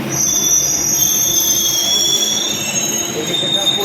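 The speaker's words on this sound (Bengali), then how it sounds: "চলে এসেছে আমাদের ট্রেন।" A metro train pulls into the station with loud, sustained high-pitched wheel squeals ringing over a rumbling rail roar, close and continuous throughout.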